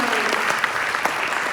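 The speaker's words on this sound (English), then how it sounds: "Give yourself a round of applause for supporting live comedy." A live comedy show audience breaks into loud, close applause, a thick burst of clapping that lasts only a moment and stays at full strength throughout.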